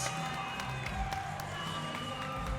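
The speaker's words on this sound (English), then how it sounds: "Let's give him a big round of applause" Crowd applause and cheering at a Shamrock FC mixed martial arts event for fighter Shaun Scott receiving a three-fight contract, a steady wash of clapping and shouts filling the venue with a broad, continuous roar.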